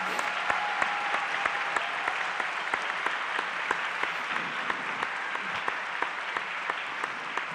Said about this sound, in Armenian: Շնորհակալություն այս ծափահարությունները ձեզ։